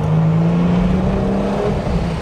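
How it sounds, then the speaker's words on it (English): A 1980s Ford Capri Mk3 2.8i engine drones steadily with a throaty exhaust note as the car drives, loud and close, without voices. "From the noise of that exhaust note to how you feel as the driver"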